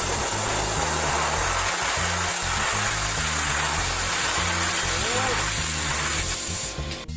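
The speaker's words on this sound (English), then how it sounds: "someone was using an air compressor to balance a screwdriver in midair and it was like spinning" An air compressor nozzle blows a steady, loud hiss of air to spin a screwdriver in midair, a continuous rushing jet lasting several seconds before it tapers off at the end.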